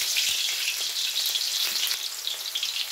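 Garlic and onion frying in a pan for pansit bihon, a steady bright hiss of sizzling oil with faint crackles, close and continuous, no voices.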